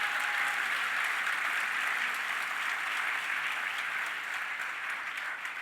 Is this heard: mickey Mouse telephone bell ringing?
no